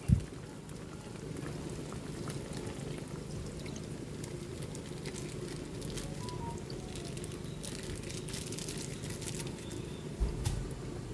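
Ginataang tilapia simmering in coconut milk in a pot gives a quiet, continuous bubbling and light popping, soft and close, with a brief knock near the start and end.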